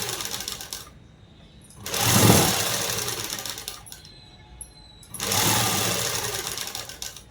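Sewing machine stitching a blouse lining, running in two sustained bursts of rapid mechanical whirring separated by quieter pauses, close and fairly loud with no talk.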